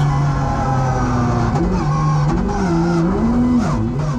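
Drift car engine note wavering and sliding in pitch at full volume, with tire squeal and skidding woven through as the engine cuts out mid-run during a drift event.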